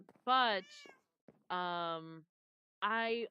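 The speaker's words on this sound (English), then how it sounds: "I gotta get away from these cats. They make too much noise." Cats meow in the Minecraft video game, three drawn-out, clear mewing calls separated by short pauses, close and fairly loud.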